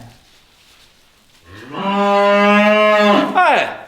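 A cow lets out a loud, long, close moo that holds steady and then drops in pitch at the end, following a quieter opening stretch.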